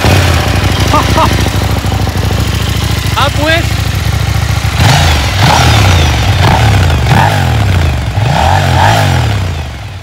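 A motorcycle engine idles loudly up close and then revs in several rising, falling bursts, with someone briefly speaking over it.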